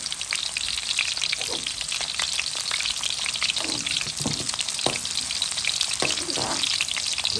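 Pork and vegetables with carrot sizzle steadily in plenty of hot oil, a dense crackling fry with occasional stirring clatter, close and continuous throughout.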